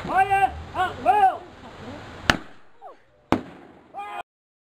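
A wartime Northover Projector fired at a demonstration during a wartime weekend at Goathland on the North Yorkshire Moors Railway: two sharp, loud single reports about a second apart, following shouted commands from a man.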